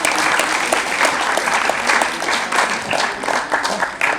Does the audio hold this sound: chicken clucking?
no